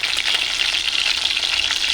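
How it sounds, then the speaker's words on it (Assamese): Fish fries in hot oil, giving a close, steady crackling sizzle with no talk. "মাছখিনি প্ৰথমতে ভাজি লৈছোঁ"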